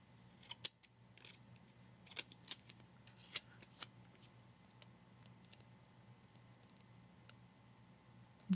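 Scissors snip through paper while planning, giving a few sharp, separate cuts near the start that thin out into faint, scattered clicks over a quiet hum.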